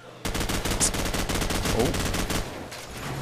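Rapid gunfire rattles through a Call of Duty 4 match in a 2v2 tournament round, a dense burst of repeated shots lasting a couple of seconds with a commentator's voice faintly underneath.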